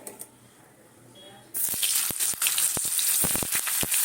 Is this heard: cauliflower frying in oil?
yes